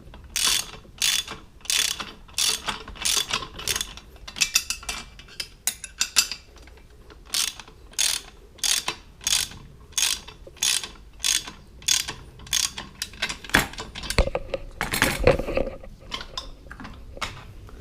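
A 14 mm or 5/16 wrench ratcheting while tightening trailer hitch bolts on a 2018 Toyota Highlander, steady repeated bursts of sharp clicking in an even rhythm, close and clear, with a few metallic knocks near the end.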